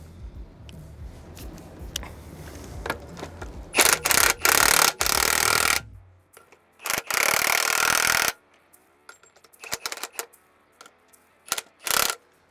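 An impact wrench tightens bolts on the segments of a solid, serviceable telehandler tire, firing in loud rattling bursts of a second or two with quiet gaps and scattered metallic clicks between them.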